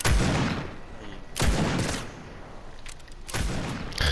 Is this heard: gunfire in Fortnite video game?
yes